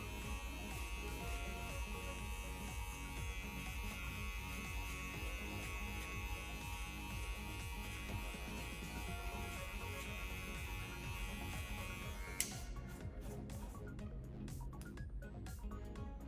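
Electric hair clippers buzz continuously and fairly faintly during a clipper-over-comb haircut with a 1.5 guard, a steady drone with a slight change near the end.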